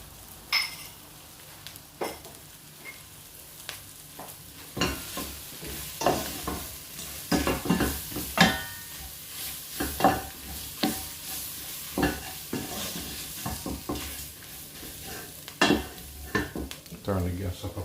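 Flour stirred into a sizzling pot of shrimp bisque base, the spoon scraping and clinking against the pot in repeated strokes over a low, steady sizzle, fairly close, with a few spoken words between the strokes.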